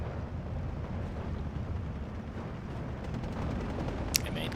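Howitzer artillery fire in a video game, a dense, continuous low rumble of distant guns and blasts rolling on without pause.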